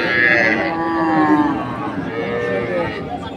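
Cows lowing at a livestock market in Dinajpur, a loud close moo rising and falling over about three seconds with faint crowd chatter behind.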